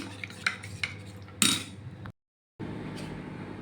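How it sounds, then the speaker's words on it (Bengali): A spoon clinks against a bowl or glass while mixing custard powder into lightly warmed milk, with a few sharp metallic taps and scraping strokes at close range before a brief silence and then a soft, steady background. "কাস্টার্ডটা হালকা গরম করে দুধে গুলে নিচ্ছি"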